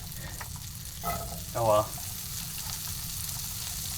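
Butter sizzling and frying in a pan inside a truck camper, a steady close crackling hiss throughout, with a person briefly speaking over it.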